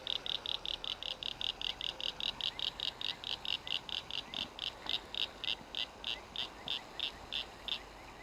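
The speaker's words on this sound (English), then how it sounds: "frog is right next to me." A frog calls right beside a pond at night, a close, rhythmic pulsing croak repeated steadily about three times a second, standing out clearly over a faint outdoor background.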